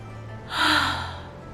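One deep breath, a single close, airy inhale-exhale that swells and fades over about a second, heard alone over a low background hum.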